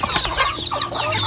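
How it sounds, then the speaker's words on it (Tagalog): Chickens cluck in quick, overlapping bursts, close by and fairly loud, with a few higher squawks mixed in over a short moment. "daming manok katambayan"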